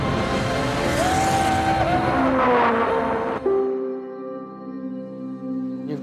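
1960s race cars, including Jim Clark's Lotus Climax number 4, screaming loudly past at speed, engine pitch rising and falling before the noise drops to a fading, lower drone as the cars pull away.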